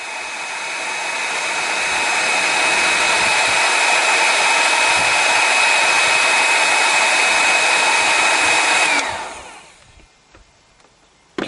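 A heat gun seals the end of a DIY vehicle immobilizer and melts hot glue: a steady, loud blowing whir with a thin whine runs for about nine seconds, then cuts off into near silence.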